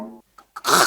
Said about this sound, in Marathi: मी खाकरलो.